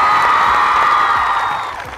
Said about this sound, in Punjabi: ਜ਼ੋਰਦਾਰ ਤਾੜੀਆਂ ਆਪਣੇ ਲਈ।